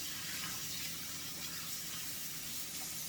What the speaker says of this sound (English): I'm going to turn my water down and rinse my sinks